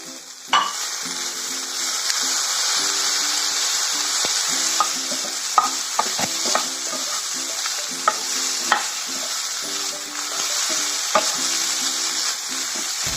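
Okra and grated coconut stir-fried in a pan, with a steady loud sizzle under repeated scraping strokes of a spoon stirring the mixture, no voices.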